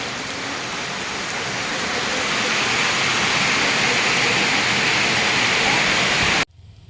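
Heavy rain pours down across farm fields in a dense, steady hiss that fills the whole scene and stops abruptly at the end, with no voices over it.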